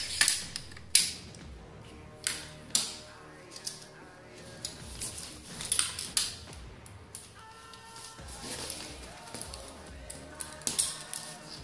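An HK MR223 rifle bolt being inserted and closed, a series of close, sharp metallic clicks and slides spaced out over several seconds, ending in a cluster of quicker mechanical clacks.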